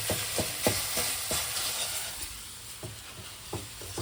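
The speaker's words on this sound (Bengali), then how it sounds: "শুশুনি শাক, কাঁচা লঙ্কা আর রসুন দিয়ে ভাজা হচ্ছে।" Shushni leafy greens fry in a pan with green chilli and garlic: a steady close sizzle broken by about a dozen sharp spatula knocks and stirring scrapes, with no talk.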